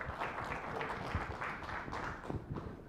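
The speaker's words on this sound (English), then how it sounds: "Warm applause for our friends, Princeton and Kate." An audience at a digital commerce and retail business talk claps warmly, a dense, steady patter of many hands heard from within the room, moderately loud and with no one speaking over it.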